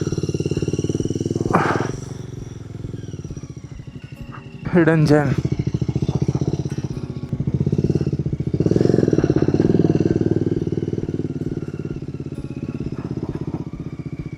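A motorcycle rides a mountain trail in Lower Mustang, Nepal, its engine a steady close drone through the whole stretch, with a brief sharp yelp near the middle and someone talking over the noise.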